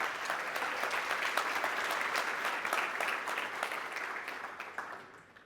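Seated audience at a retail business conference claps for the event team, steady applause with a few distinct nearby claps, gradually fading out at the end.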